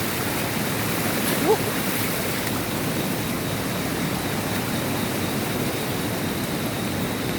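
Loud, steady rushing floodwater from heavy rain fills the scene, a constant broadband roar of a swollen stream flowing close by.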